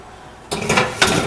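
A metal baking pan of banana bars slid into an oven, a quick scrape and clank of metal on the rack followed by a second sharper knock, close and brief after near quiet.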